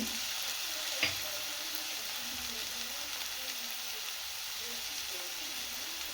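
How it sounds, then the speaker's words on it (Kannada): Vegetable hakka noodles stir-fry in a hot pan with soy sauce added, giving a steady, close hiss of sizzling throughout, with one brief sharper burst near the start. "ಮಿಕ್ಸ್ ಮಾಡ್ಕೊಳ್ತಾ ಇದ್ದೀನಿ ಈಗ ಇದಕ್ಕೆ ಸ್ವಲ್ಪ ಸ್ವಲ್ಪ ಸೋಯಾ ಸಾಸ್ ತೊಗೊಂಡಿದ್ದನ್ನೆಲ್ಲ ಅದ ಹಾಕೊಳ್ತಾ ಇದ್ದೀನಿ"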